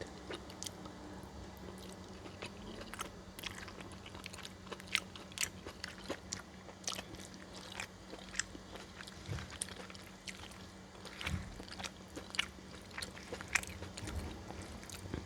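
Close, quiet chewing and biting of a Trader Joe's noodle bowl with peanut butter in a spicy, sweet sauce: soft squishy mouth sounds and occasional crunchy bites repeating steadily, with no talking.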